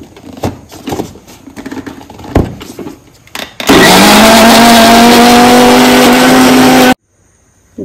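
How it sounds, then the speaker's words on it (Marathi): Mixer grinder grinding a wet Goan prawn curry masala of chilli powder, turmeric, coriander, tamarind and onion with water, a loud steady whirring motor for about three seconds after some handling knocks, then stopping abruptly. "आता वाटून घेऊया।"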